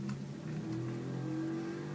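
Aircraft engine in the Garry's Mod video game gives a steady, droning mechanical hum with a sustained low tone, continuous and fairly close for the whole stretch, no voices.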